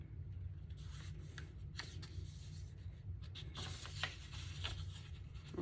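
Paper for a sewing-themed book page pocket being folded and creased, soft rustles and crisp scraping brushes, close and quiet, with no voices.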